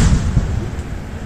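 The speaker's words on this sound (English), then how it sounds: "is that a fucking firecracker or what?" A firecracker goes off outdoors during a total solar eclipse, a few sharp pops and a dull boom in quick succession, moderately distant, with no talking over it.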